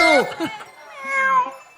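A voice imitates a cat, giving two short high meows followed by a longer drawn-out wavering meow, loud and close, during a game show guessing game.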